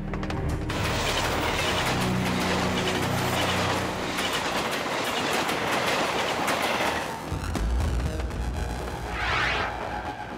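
A moving passenger train rumbles steadily with rhythmic clickety-clack of wheels over rail joints, loud and continuous throughout, with a brief brighter squeal near the end.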